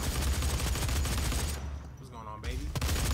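Gauss cannon fired in the DOOM video game: dense, loud bursts of gunfire-like blasts fill the first half, a brief quieter gap with a ringing tone follows, then another heavy burst near the end.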